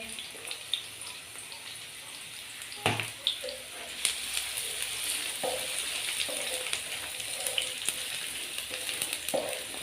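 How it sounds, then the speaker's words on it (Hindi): Finely chopped onion fries in hot oil on a tawa, with a continuous soft sizzle and occasional stirring scrapes and clinks while vegetable pulao is being made. "प्याज डाल के इसको हम हल्का सा फ्राई कर लेंगे।"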